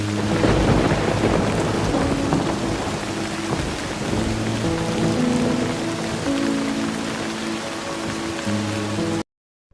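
Heavy rain pours down in a cartoon thunderstorm, with loud dense drumming of drops and deep rolling thunder throughout before cutting abruptly to silence near the end.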